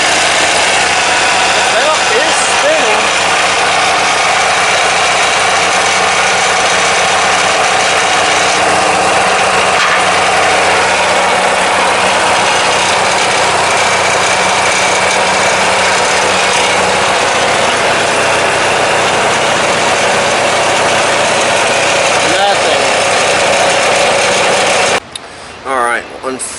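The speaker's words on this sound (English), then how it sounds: "We're going to fire this thing up and see if the transaxle works." A late-1990s Murray Select riding mower with a 17hp Briggs & Stratton opposed-twin engine runs steadily and loudly up close, a constant broadband drone that cuts off abruptly near the end.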